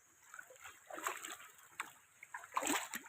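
River water splashing and sloshing in short uneven bursts, nearby and moderately loud, with a couple of stronger splashes toward the end and faint outdoor background.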